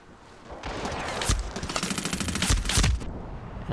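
Rapid gunfire from Medal of Honor: Warfighter multiplayer, bursts of loud automatic shots crackling close, with a heavier blast near the end and no talk.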